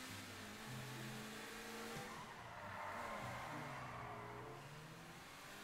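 A car in GTA 5 Online revs and growls through its exhaust with tire squeal and skidding, a continuous loud engine note rising and falling over several seconds, no talk.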